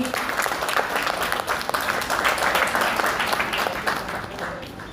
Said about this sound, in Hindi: बहुत ताली बजा दीजिए एक बार जोरदार अपनी